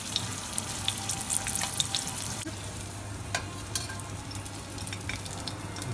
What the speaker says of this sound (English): we're just going to let that cook until the garlic is nicely browned all the way around